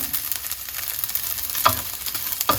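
Hong Kong-style Yangzhou fried rice with egg and char siu sizzles in a hot wok, a steady soft hiss broken by two sharp scraping tosses of the spatula toward the end, with no voices.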